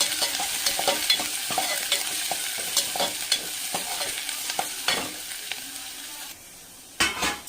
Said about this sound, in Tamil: நல்லா வெங்காயம் வந்து இந்த அளவுக்கு வதக்கணும்